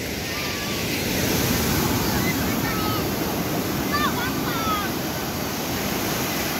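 Steady roar of ocean waves washing in continuously at Lampu'uk Beach in Aceh, loud and close, with faint chirps of birds or distant voices above the surf.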